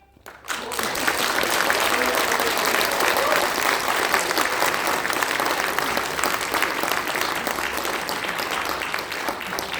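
After a poem recitation at a political party's election launch event, a crowd bursts into applause that starts abruptly and stays loud and steady for nearly ten seconds.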